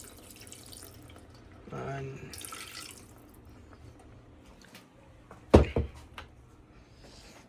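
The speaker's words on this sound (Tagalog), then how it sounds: "lagyan natin ng konting tubig" Water is poured from a faucet into adobong pusit in a brief splashing trickle lasting about a second, followed by quiet kitchen noise, a sharp clunk, and a short spoken word.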